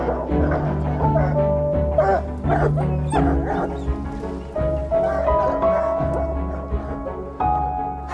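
A dog barks and yips in short, irregular bursts during a search for pumas in the French countryside, fairly close, with whimpering tones and people talking over it.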